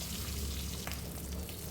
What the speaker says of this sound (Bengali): ডিমগুলো ভেজে নিচ্ছি